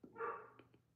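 Dog barking, a single faint bark heard quietly in a room, followed by a couple of soft short sounds.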